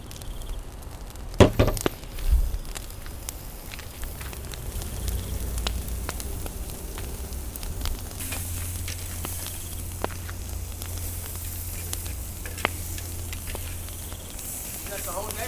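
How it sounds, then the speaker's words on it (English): Chorizo sizzles with onions in a pan over an open fire outdoors, a steady low crackle and hiss running throughout, with a couple of louder knocks near the start and faint scattered clicks. "Let's put the chorizo in it."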